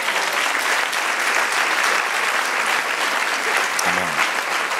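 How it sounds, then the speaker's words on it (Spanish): A church congregation applauds continuously, a dense steady wash of many hands clapping at moderate distance, with a brief voice near the end. "Den un aplauso al Señor."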